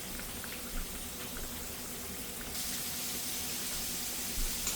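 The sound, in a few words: pork chops frying in pan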